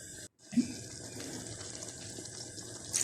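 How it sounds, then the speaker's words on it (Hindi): A cup of water splashes into a pan of potato-pea keema that has just been browned, making a close, steady running pour with a brief clatter near the start and no talk. "यहाँ हम इसके अंदर 1 कप पानी ऐड करेंगे ताकि जो मटर और आलू है वो अच्छे से गल जाएं।"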